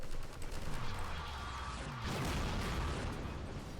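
Explosions and gunfire in the Half-Life 2 video game, dense bursts of shots and booms layered close together, loud and continuous throughout with no talk.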